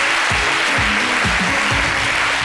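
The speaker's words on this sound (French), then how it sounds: "Merci de l'applaudir très très fort." Studio audience applause on a French midday TV talk show, a steady dense clapping wash with some low thumps, continuous for a couple of seconds.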